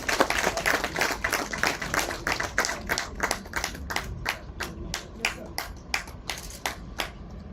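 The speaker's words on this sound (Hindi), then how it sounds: "अपनी संवेदनाओं को अपनी तालियों के माध्यम से इन कलाकारों का उत्साह बढ़ाएं" Audience at an award ceremony at the Rajasthan International Centre in Jaipur, clapping for artists in a steady, rhythmic unison beat that holds evenly for several seconds, moderately distant.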